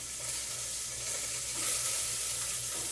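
Green chillies and onions fry in hot oil in a pan, giving a steady, fairly quiet sizzling hiss that holds evenly for a few seconds with no voices.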